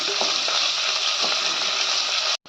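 Onion frying in a pan with cloves and cardamom, a steady close sizzle broken by a few soft scraping stirs, ending in a brief cut.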